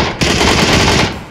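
Automatic gunfire in PUBG rattles out as one loud, close, continuous burst of just under a second before tapering off.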